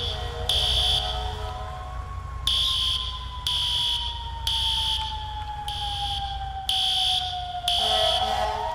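A fire alarm in a barbershop blares in repeated pulsing bursts, loud and shrill, while a siren's fading wail sweeps underneath.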